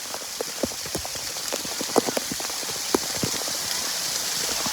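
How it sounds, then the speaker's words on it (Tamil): Steady heavy rain pours down at a waterfall near Gundaru Dam in Tenkasi, a dense hiss with scattered louder drops splashing close by, continuous throughout with no voices. "இங்கே ஃபுல்லுமே மழை."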